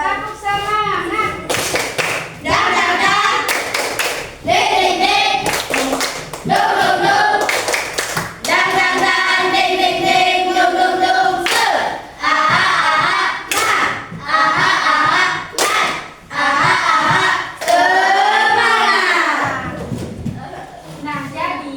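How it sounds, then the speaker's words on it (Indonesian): Schoolchildren in a classroom perform a rhythmic clapping chant, sharp clap bursts in patterned groups alternating with children's voices chanting and singing along, close and loud. "tepuk semangat."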